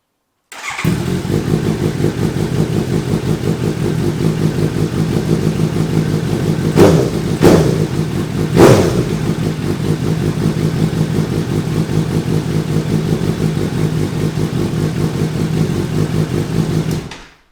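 A Suzuki GSX-S750Z motorcycle engine runs on a stand with no load on the rear tire, idling loudly and steadily, with a few sharp revs in the middle.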